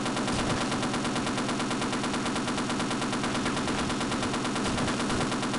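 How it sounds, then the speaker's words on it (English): Rapid, evenly spaced machine gun fire from the video game Half-Life rattles continuously and loudly for several seconds, a dense metallic burst stream with no talking. "It's so weird using the machine gun in this game."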